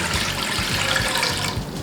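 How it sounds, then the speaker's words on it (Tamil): Water pours steadily from a jug into a cooking pot on a stove, filling it to boil pasta, a continuous splashing rush that is close and fairly loud, with no voices. "அடுப்பை ஆன் பண்ணிவிட்டு நல்லா ஒரு ஜக்களவு தண்ணி விட்டுக்கலாம்."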